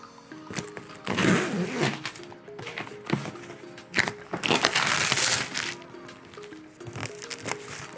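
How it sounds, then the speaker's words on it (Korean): Plastic wrap being peeled and crinkled off a 2019 15-inch MacBook Pro box, with continuous close crackling and rustling that swells in two louder bursts, under faint background music. "비닐을 벗기면 이렇게 맥북이 있는 걸 확인할 수 있고요"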